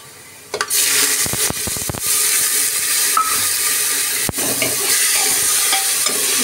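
Red lentils pour into a hot pan of frying onions and garlic with a burst of sizzling, followed by steady frying and a few sharp scrapes of stirring.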